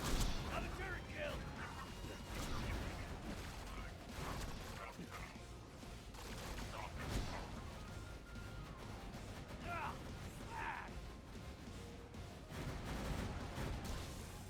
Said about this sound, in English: I was just wildly shooting for him